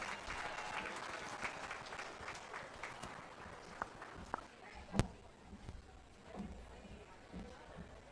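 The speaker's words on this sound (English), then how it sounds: "Let's give our first class of sheep exhibitors a nice round of applause." Crowd applause for youth sheep exhibitors at a county fair sheep and goat show, a steady patter of clapping lasting several seconds with a few sharper claps standing out before it thins toward the end.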